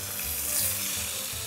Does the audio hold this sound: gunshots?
no